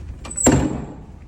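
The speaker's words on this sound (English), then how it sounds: "Closing the door here." Door being closed indoors: a light click followed by a firm thud, single and close, then a fading room tail, with no talk.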